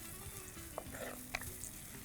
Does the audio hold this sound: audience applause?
no